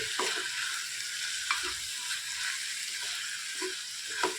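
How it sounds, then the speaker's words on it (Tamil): Eggplant and spices fry in oil in a pan for a tamarind curry, a steady bright sizzle with a few soft stirring clinks, close and alone. "எல்லாம் போட்டு எல்லாம் காயோடு சேர்ந்து கொஞ்சம் நேரம் அப்படியே எண்ணெயிலேயே வணங்கிட்டோம்"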